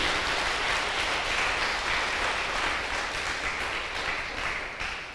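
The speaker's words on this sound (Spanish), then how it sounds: "si le van a dar un aplauso al Señor, dáselo con todo el corazón" A church congregation applauds for the Lord during a Spanish-language sermon on the resurrection of Christ, a steady wash of many hands clapping together that holds even and then slowly tapers toward the end.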